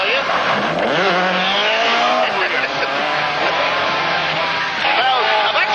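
Ford Escort rally car at the 1972 RAC Rally sliding through a handbrake turn, with loud rising and falling engine revs and tire squeal, close and sustained, under a voice talking.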